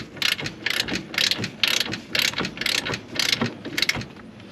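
Ratchet snugging bolts on electric brakes being added to a 6x12 enclosed trailer, about ten quick clicking strokes in a steady back-and-forth rhythm, close and clear.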